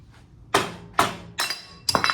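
Four sharp metallic strikes of a hammer with a bright ringing tail, spaced unevenly about half a second apart, close by in a quiet room during a 302 engine teardown.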